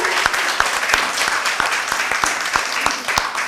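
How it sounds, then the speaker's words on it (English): Participants of a short certificate course on Braille, tactile aids and sign language applaud, a close, dense round with sharp individual claps standing out rhythmically throughout. "Let's give a big round of applause now to all of you."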